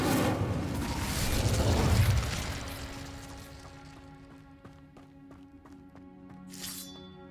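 An Incendio fire spell cast in Hogwarts Legacy starts as a loud roaring, crackling whoosh that swells for two seconds and then dies away, leaving faint tonal game music and a late brief hiss.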